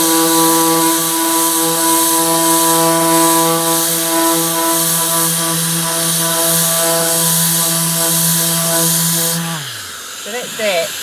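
A steady, loud mechanical whine from a small Prep Mate 3 detail sander runs for about nine seconds, then winds down and stops, leaving brief faint rustling.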